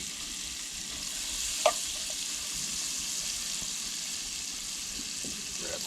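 Sliced sweet onion hits a hot pan alongside pork chops at a truck campsite, giving a steady, quiet sizzle with a brief clatter partway through.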